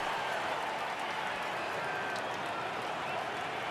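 A stadium crowd in MLB The Show 18 at a Phillies versus Athletics game keeps up a steady, broad roar of cheering and faint clapping, constant in level across the whole stretch.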